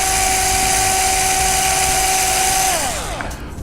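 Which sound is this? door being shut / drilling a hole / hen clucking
drilling a hole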